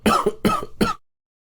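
Three harsh, close coughs from a man in quick succession, each a short rasping burst, followed by silence; a voice performing a character's coughing fit in a dramatic reading.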